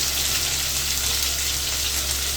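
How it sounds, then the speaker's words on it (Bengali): Potatoes and ridge gourd fry in hot oil with a steady, loud hissing sizzle that stays even and unbroken from start to finish. "ঝিঙে আর আলুগুলোকে এবার তেলের মধ্যে ভাজতে দিলাম"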